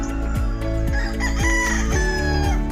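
Several roosters crow in quick succession at a chicken farm keeping gamefowl, loud and close, with overlapping calls repeating about every half second and no talking.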